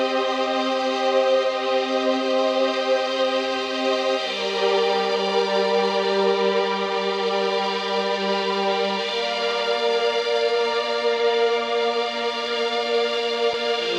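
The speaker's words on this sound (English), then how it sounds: "we have this wonderful rotating pad sound" A slowly rotating synth pad from the M-Tron Pro IV software instrument holds sustained chords that change roughly every four to five seconds, steady and full, with no voices.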